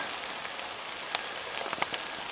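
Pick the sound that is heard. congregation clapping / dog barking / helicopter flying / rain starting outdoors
rain starting outdoors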